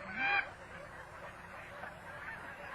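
A Canada goose gives a short honking call near the start, then a soft, diffuse flock murmur lingers in the background for the rest of the moment.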